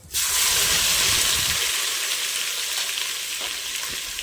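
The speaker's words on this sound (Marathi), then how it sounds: "छान असं फोडणी बसली बघा आता." Loud, steady sizzling of turmeric, curry leaves, asafoetida and ginger-garlic in hot oil, a bright crackling hiss that starts abruptly and continues with no talking.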